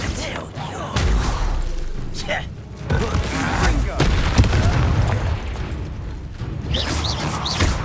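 Explosive Confringo spell blasts in Hogwarts Legacy, heavy booming bursts rolling through a busy combat scene with shouted voices over the top.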